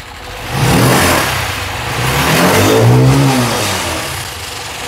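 A motorbike engine self-starts, then revs and idles loudly at close range, its pitch rising and falling in two swells before settling, with no voices.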